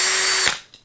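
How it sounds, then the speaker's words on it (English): Power drill spinning a mixing attachment for homebrewing, a loud high whirring spin that holds steady and then winds down and cuts off, followed by a faint click. "Attach this to a drill. You'll need a drill for this."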